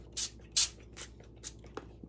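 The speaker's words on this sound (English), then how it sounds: "liberally spray it. Make sure you get the ends nice and buttered." Butter-flavored cooking spray hissing from a can in several short bursts, close and fairly loud, with brief pauses between sprays while coating a pan for low-calorie Christmas crack treats.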